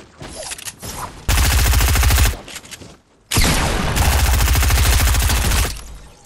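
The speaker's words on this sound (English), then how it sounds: "I want to try and get some shotgun shots off" Shotgun fire in a video game comes in two loud, dense bursts of rapid shots, each lasting about a second or more and split by a brief lull, with faint game noise between them.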